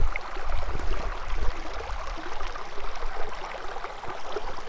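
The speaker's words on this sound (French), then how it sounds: "Voilà le petit ruisseau" A small stream flows and trickles nearby, a soft continuous watery babble with faint gurgles, no voices over it.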